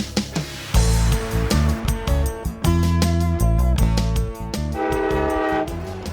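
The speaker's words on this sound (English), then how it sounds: "a passenger train is en route from Iowa to Chicago" Passenger train traveling from Iowa toward Chicago in the early 1960s, loud rhythmic rolling and clatter with a sustained blaring horn, strong and close throughout.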